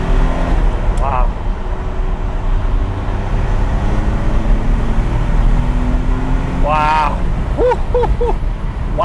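A Jaguar XJ220 1990s supercar with an old-school turbo engine pulls hard at speed, a loud, steady engine and road roar running throughout, with people talking excitedly over it.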